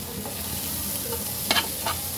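Stinging catfish fries in a small amount of oil, a close, continuous sizzle with a few short scraping stirs near the end, no voices.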